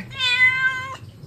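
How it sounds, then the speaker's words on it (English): A single cat gives one clear, close meow lasting just under a second, with faint background noise afterward. "So many cute cats."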